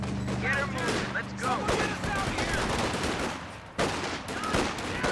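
Battle sounds from the World War II strategy game Company of Heroes 2, with rattling small-arms bursts and scattered shots layered over engine rumble and a chaotic mix of in-game voices.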